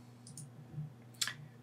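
A computer mouse clicks a few times while selecting a model in a web interface, light sharp taps close by over a low steady hum, with no speech.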